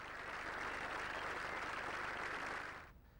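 A golf gallery at the 18th hole of the US Masters clapping in a sustained, even wash of applause that fades away at the end, distant and fairly soft, with no voices.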